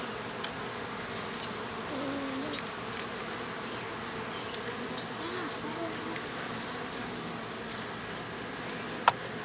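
Agitated honeybees buzz in a thick, constant drone around an open beehive during an inspection, close and steady, with a sharp click near the end.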